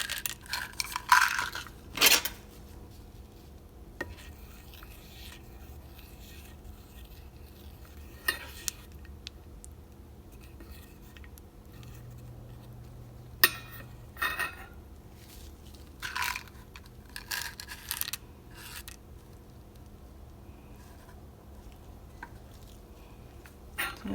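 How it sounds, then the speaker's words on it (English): Stirring melting citrine wax in a pot for lip balm gives sparse metallic clinks and scrapes of a utensil against the pot, quiet and close, separated by long stretches of near silence. "We're just gonna keep stirring this and make sure it is completely melted"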